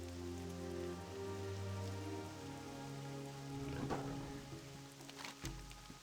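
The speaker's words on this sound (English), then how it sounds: "But that's the nice rain." Rain in World of Warcraft Classic: a soft, steady patter of rainfall heard faintly under sustained ambient game music tones, with a brief crackle near the end and no speech.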